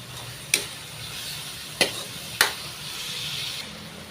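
Food being stirred in a pan with seasoning and pepper added: three sharp, separate scrapes of a utensil against the pan over a steady low sizzle, close and clear, with no talking.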